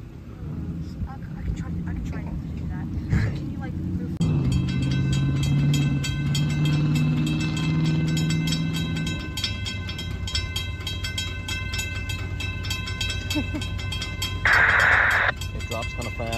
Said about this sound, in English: Here comes B795 with an awesome horn from its originator point.